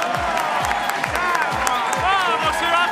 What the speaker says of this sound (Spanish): A ver esos aplausos, esos gritos